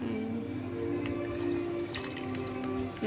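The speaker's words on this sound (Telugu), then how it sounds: "అది ఫుల్ ఐస్ వేసేసాం వాటర్ పోసేసాం" Water pours into a mixer jar packed with ice for wood apple juice, a gurgling trickle with small drips and clinks close by over a steady background hum.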